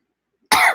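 A single short, harsh cough from a person, close and loud, breaking a moment of silence.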